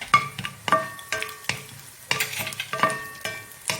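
Raisins and crushed cloves fry in a pan, crackling with sharp sizzling pops and bursts of stirring scrapes at irregular intervals, close and fairly loud.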